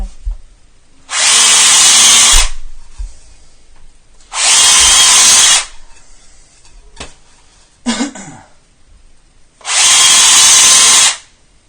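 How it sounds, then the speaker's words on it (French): Power drill boring into a plasterboard partition wall, three loud sustained bursts of about a second each separated by quiet pauses, with a brief cough or throat noise between the second and third runs. "Je vais reposer la perceuse."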